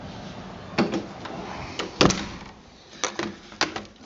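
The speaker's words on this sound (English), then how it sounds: "I'll open this door." The metal door of a Swedish fire torch stove is opened outdoors in snowy, sub-zero conditions, producing a few sharp clanks and scrapes at irregular intervals over a steady crackling fire.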